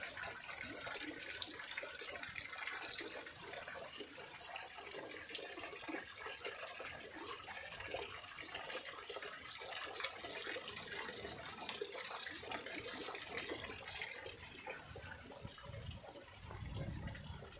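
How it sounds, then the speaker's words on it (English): Water runs down through two or three small garden ponds on its way to a main pond beside the seaside, a continuous close splashing trickle that stays steady throughout. "There's 2 or 3 little ponds that the water goes through on its way down to the main pond"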